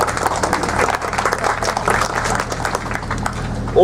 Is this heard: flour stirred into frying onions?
no